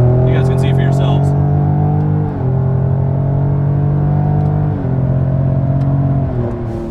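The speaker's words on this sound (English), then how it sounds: "They're pretty responsive on the downshifts, not too bad. Will it allow second gear?" A 2019 Ford F-150 Raptor pickup engine heard from inside the cabin, droning steadily and then dipping in pitch at each gear change of its 10-speed automatic, with shifts at roughly even intervals.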